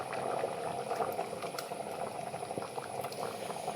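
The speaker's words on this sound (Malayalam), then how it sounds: "തിളക്കട്ടെ അല്ലേ?" Jackfruit seed curry with roasted ground coconut paste bubbling in a pot, a steady close simmer of popping bubbles that continues without talk.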